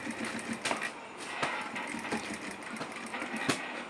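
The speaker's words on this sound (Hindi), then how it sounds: "इस तरह से आपको सिलाई मारते हुए आना है" A sewing machine stitches a shirt collar with a fast, even mechanical clatter close by, broken by faint knocks and handling sounds over four seconds.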